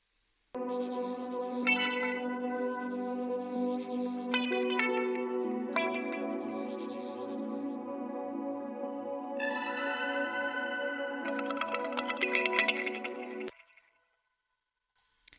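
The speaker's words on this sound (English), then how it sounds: "I wanted to do a lot of effects on the guitars" Electric guitar licks drenched in chorus, echo and reverb, sustained and shimmering, playing alone for about thirteen seconds before stopping abruptly.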